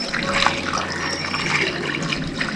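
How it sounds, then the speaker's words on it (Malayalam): Water pours steadily and fairly loudly into a pot of duck pieces for a Kerala-style duck curry, a continuous splashing rush with no talk. "ഇനി നമുക്ക് ഇതിനകത്തേക്ക് ആവശ്യത്തിന് വെള്ളം ഒഴിക്കാം."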